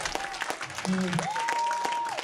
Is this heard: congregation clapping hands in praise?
yes